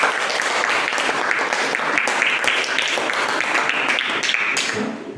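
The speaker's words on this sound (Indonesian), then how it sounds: "Kasih tepuk tangan dulu sama teman-teman." Classroom applause from a group of students, steady dense clapping that runs evenly for about five seconds and tapers off at the very end.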